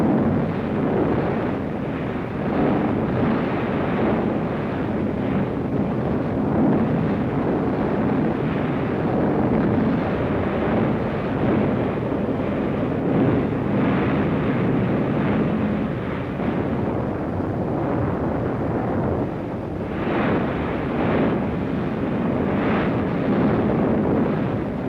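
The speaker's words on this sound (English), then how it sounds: "Rocket guns, Katyusha, the Russians call them." Soviet Katyusha rocket launchers fire during a World War II offensive, producing a sustained, loud, dense roar of rushing rockets and blasts that swells in repeated bursts, with no voices.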